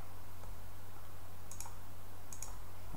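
Quiet mouse clicks on a Next button during a driver installation: two short double-clicks, one after the other, over a faint steady hum.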